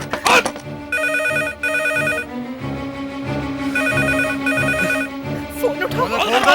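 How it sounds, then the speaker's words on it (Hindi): A telephone rings in a dubbed Indian action film scene, bursts of rapid electronic trilling repeating several times, loud and close, amid shouting voices and banging. "फोन उठाओ।"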